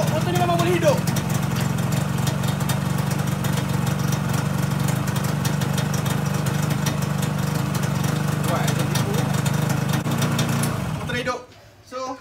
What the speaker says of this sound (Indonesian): Motor dah hidup.